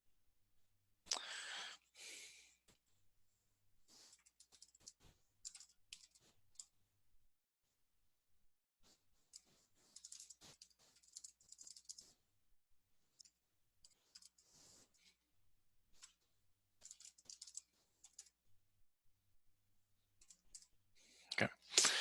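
Someone types a true-or-false quiz question on a computer keyboard, sparse bursts of quiet close key clicks separated by pauses, with a soft voice or breath now and then.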